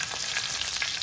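Black peppercorns sauté in hot ghee over a low gas flame, giving a close, continuous frying sizzle with faint crackles and no talk.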